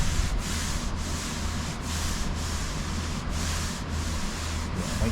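Body filler on a repaired car body panel is sanded and feathered back in a continuous, close, rasping rub with a steady back-and-forth rhythm and faint regular strokes, and no one talks.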